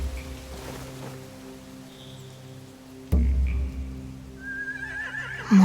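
Horses neigh in The Walking Dead video game, a whinny rising and fading near the end over a low droning game soundtrack with a sudden thud midway.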